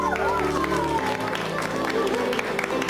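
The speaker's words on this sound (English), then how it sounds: "What are you people clapping for?" An audience claps and cheers at a Joey Diaz stand-up comedy show, giving steady, loud applause with crowd noise and some tonal sound underneath.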